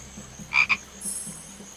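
Frog croaks in the video game Secret Files 2: Puritas Cordis: two quick bright croaks close together, standing out clearly above a faint, low ambient game background with no talk.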